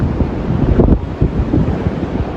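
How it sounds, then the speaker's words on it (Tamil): A cyclone in Jaffna drives strong wind that roars loudly and steadily against the microphone, with dense buffeting gusts and no voices. "இப்படி காத்தடிக்கணும் பாருங்க"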